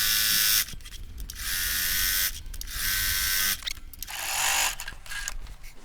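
A sewing machine fitted with a walking foot (even-feed presser foot) stitches a line through layered, quilted fabric, its rapid mechanical whir running in steady bursts separated by brief pauses, close and alone.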